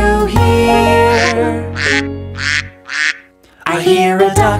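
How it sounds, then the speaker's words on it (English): Duck quacking in a children's song, four bright nasal quacks in an even rhythm, loud and close, set between sung musical phrases. "I hear a duck."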